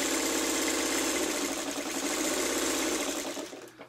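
A sewing machine runs steadily, stitching a curved seam with a fast, even mechanical buzz close by, slowing and stopping near the end.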